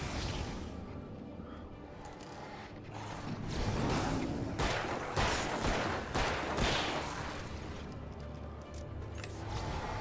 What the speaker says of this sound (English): Remember, Barry, gunfire is a good noise.